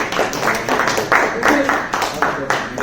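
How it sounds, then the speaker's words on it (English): Close, loud clapping from a small audience welcoming a speaker named CJ at a sales talk, uneven bursts of hand claps over a couple of seconds with some voices mixed in. "Round of applause for CJ!"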